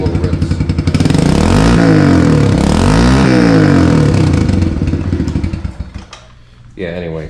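A Kawasaki KLX110 dirt bike running lean and short of fuel is revved hard and close up, climbing and falling in a couple of sharp rips before sagging to a low, uneven idle.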